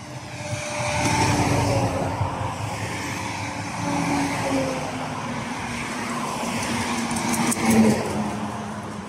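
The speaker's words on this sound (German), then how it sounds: "da kommt nämlich ein LKW" A truck passes by on a road, a broad engine and tyre rumble swelling and fading over several seconds with steady traffic noise, growing loudest near the end.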